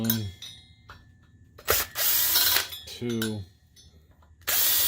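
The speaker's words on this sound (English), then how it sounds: "we are going to remove the screws holding that strap to the heatsink" A power screwdriver or drill backs out screws from the strap holding parts to the heatsink inside a SpeakerCraft BB1235 12-channel amplifier, in several close whirring bursts between brief spoken words.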